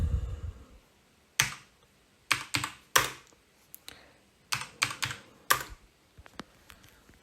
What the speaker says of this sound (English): I was typing yes, wasn't printing it